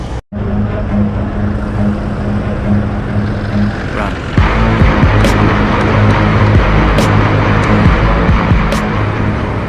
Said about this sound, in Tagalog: Uy, grabe ang traffic ah.